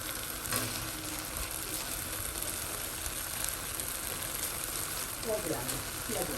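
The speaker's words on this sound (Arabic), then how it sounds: "غندير شويه الزبده شويه الملح والفلفل الاسود وغادي نحمرهم فيهم" Butter sizzles and crackles steadily in a pan with salt and black pepper, a close, continuous frying hiss with a brief voice near the end.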